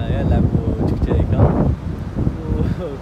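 Strong wind buffets the microphone outdoors during a family Ramadan outing in Algeria, a steady rushing roar under nearby talk and voices throughout.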